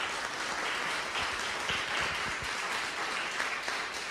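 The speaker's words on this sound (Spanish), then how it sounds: "un fuerte aplauso para los disertantes" Warm applause for the speakers at the close of a diploma class session, a steady wash of many hands clapping together, fairly close and continuous throughout.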